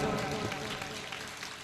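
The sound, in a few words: audience applause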